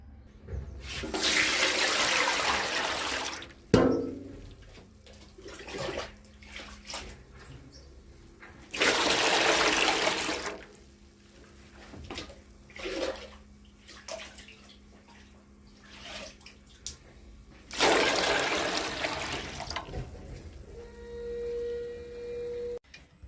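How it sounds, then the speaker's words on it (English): Water running into pans being filled for dyeing yarn gradients: several loud, steady bursts of rushing water separated by quieter gaps with small clanks and handling sounds. "So I'm going to start off by just filling my pans up and getting my pans up to temperature."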